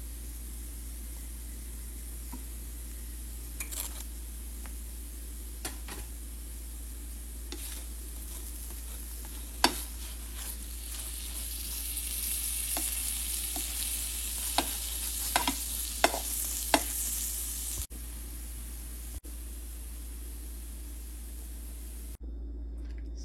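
Cabbage and carrot thalipeeth frying in butter on a pan, a low steady sizzle under a constant background hum, broken by occasional soft taps and scrapes of a spatula, no talk.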